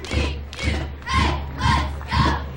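Homecoming crowd at a 1995 Buena Vista versus Upper Iowa college football game, chanting in five rhythmic, evenly spaced cheers with cheerleaders leading, heard at a distance in the stands.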